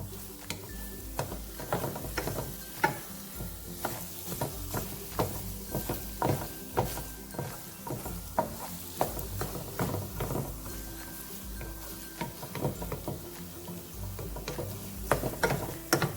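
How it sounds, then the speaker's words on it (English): Corned beef hash cooking in a pan and being scraped with a utensil, a steady run of close, clattering scrapes and taps over a low sizzle. "I'm scraping the bottom to make sure that it doesn't stick"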